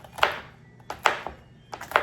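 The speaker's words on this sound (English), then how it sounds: "Put some out on a cutting board, take your knife, and chop them up." Knife chopping apples on a cutting board for a Waldorf salad: three crisp, close thwacks spaced evenly apart with quiet gaps, each a sharp blade strike against wood.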